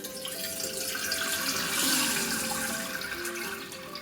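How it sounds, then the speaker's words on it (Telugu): Water drains off rice soaked for 24 hours for ariselu, a steady close pouring and trickling stream that swells slightly in the middle and then eases, with no talking. "ఇప్పుడు మనము ఇవి బియ్యం వడగట్టేసుకున్నాం. నీళ్ళన్నీ వంపేసుకొని"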